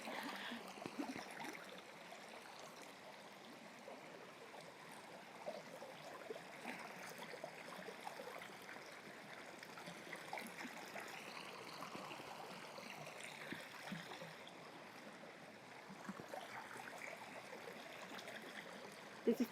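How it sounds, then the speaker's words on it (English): Water trickles and burbles steadily along a garden path at Gardens by the Bay in Singapore, a soft continuous flow with light outdoor ambience and no talking. "The sound of that water is so calming."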